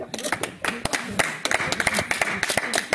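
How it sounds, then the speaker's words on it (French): Scattered, uneven hand clapping from a small group honoring caregivers at a nursing home award ceremony in Charente, individual claps distinct and close, with some voices mixed in. "on peut au moins vous applaudir"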